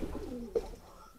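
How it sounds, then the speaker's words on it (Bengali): Pigeons in a pigeon house cooing softly, a low throaty call with one brief sharper note midway, faint against a quiet background. "কবুতরগুলো বাইরে ছাড়বো।"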